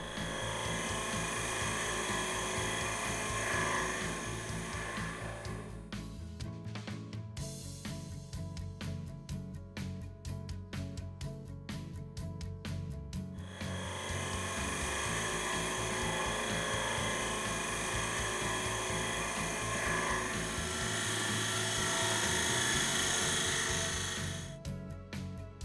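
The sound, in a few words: wood turning with round cutter in shear scraping mode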